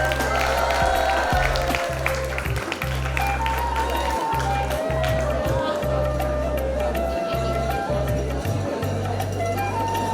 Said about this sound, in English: Can we have a round of applause, everyone?